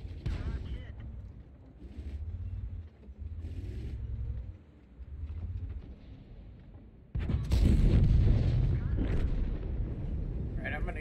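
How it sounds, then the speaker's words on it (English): Artillery fire in the World of Tanks tank battle game, heavy low rumbling blasts with a big loud impact near the end, mixed with game noise and a voice talking. "that artillery just absolutely focused the shit out of us"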